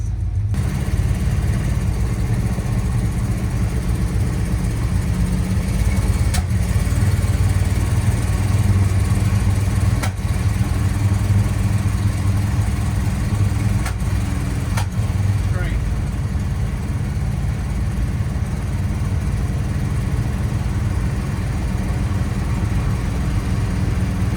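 An old Dodge Monaco car drives along with a steady, continuous low engine drone and road rumble throughout, fairly close, and a voice speaks briefly over it.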